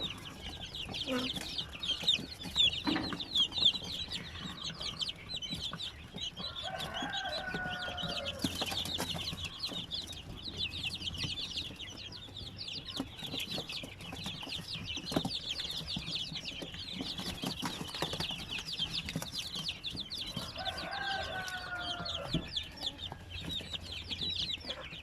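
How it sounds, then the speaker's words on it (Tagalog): Over sixty chicks freshly hatched from an incubator peep in a steady, busy chorus, with occasional hen-like clucks rising above the constant high chirping throughout. "So ang dami po mga sisiw dito, mahigit 60 siguro to."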